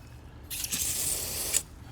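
Water sprays and splashes onto dry garden soil around newly planted zucchini, basil and bush beans, a steady hissing, close burst lasting about a second before cutting off.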